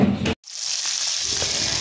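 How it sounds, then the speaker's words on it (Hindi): Marinated fish that was frozen for three to four hours sizzles and crackles in hot oil, a close, steady frying hiss after a brief clatter at the start. "3 से 4 आवर्स फिश को हमने फ्रीज किया है, और इसके बाद हम फ्राई कर रहे हैं जी।"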